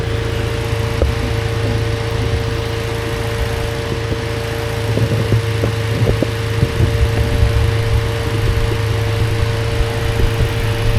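A 2017 Chevrolet Malibu turbo engine fitted with a cold air intake runs steadily with a close, loud idle hum and a constant whine. Light revs and fan noise push up briefly toward the middle.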